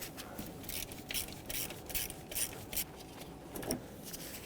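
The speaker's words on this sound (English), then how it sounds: "So take a deep 10mm socket, remove it." A ratchet with a deep 10mm socket backs out a stud on the ignition coil bracket of a 2007-2014 Chevrolet Silverado 2500HD 6.0L V8, giving a quiet run of rapid, repeated mechanical clicks with no talk.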